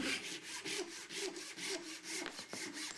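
A hand saw cutting through a taped bundle of wooden dowels, with quick, even back-and-forth strokes rasping close by at a steady rhythm.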